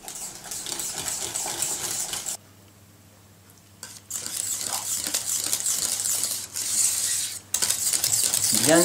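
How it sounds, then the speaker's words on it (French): Rapid scraping and clinking of a whisk stirring chocolate flan mixture in a pot, loud and busy, broken by a couple of quiet pauses before whisking resumes. "Continuez toujours à fouetter un petit peu."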